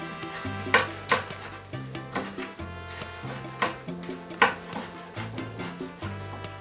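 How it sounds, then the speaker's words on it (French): A knife chops repeatedly on a cutting board, making quick clustered taps that recur in short bursts, with background music throughout and no talking. "On va passer plusieurs fois avec notre couteau pour qu'on ait bien quelque chose de fin et pas des gros morceaux."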